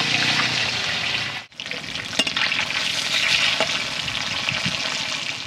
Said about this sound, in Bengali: ওই একইভাবে বাকি কাঁটাগুলো ভেজে নিচ্ছি হয়ে গেছে এবার তুলে নিচ্ছি